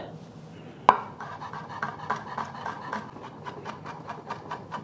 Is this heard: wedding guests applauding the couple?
no